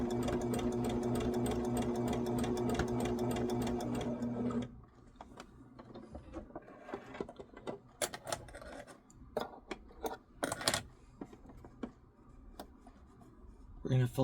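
Sewing machine stitching a shamrock table runner, a fast loud run of needle clatter for several seconds, then stopping, followed by scattered fabric rustles and handling sounds.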